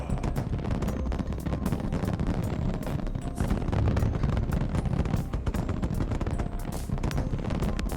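Dense fireworks show in the Aether Gazer game, with a rapid, continuous barrage of bursts and crackles layered over a deep rumble, loud and steady throughout with no talk.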